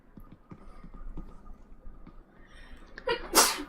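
A single sharp sneeze arrives abruptly near the end, loud and close, over a low murmur of background game sound.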